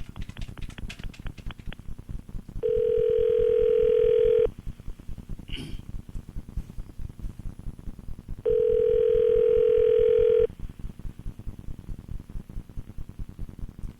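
A telephone dial tone sounds in two steady bursts of a few seconds each while a call is placed. Rapid clicking patter fills the gaps between the bursts.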